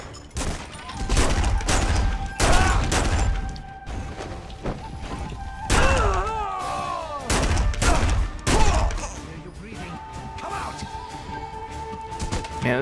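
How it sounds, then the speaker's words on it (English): Automatic shotgun firing in The Punisher game, heavy booming blasts in rapid bursts with crashing impacts between them, loud and repeated, someone talking at times over the shots. "Not only is it an automatic shotgun, it kicks ass"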